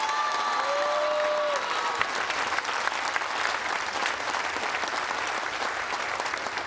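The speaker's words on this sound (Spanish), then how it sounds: "un aplauso a las Fuerzas Armadas" An audience at a community meeting in a rural hospital in Miahuatlán, Oaxaca, applauds the armed forces. The clapping is dense, steady and sustained, with a faint high whistle or tone early on.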